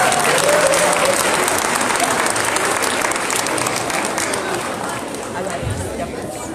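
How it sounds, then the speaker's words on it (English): Audience applauding student singers, the Heroes of Life Singers, taking the stage at an MLK community breakfast in Pacoima, California; loud sustained crowd clapping with some chatter mixed in, slowly tapering toward the end. "Let's give them a round of applause."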